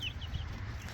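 Baby chicks in a small wire-sided brooder, giving faint high peeps and soft clucks over a low background hum, with no voices.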